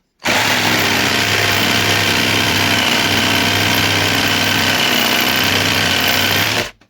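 A LEADER Lite BD20-65M cordless jigsaw with the pendulum set to zero cuts into a 40 by 50 pine block, a loud, continuous, buzzing motor whine with steady blade chatter from start to abrupt stop.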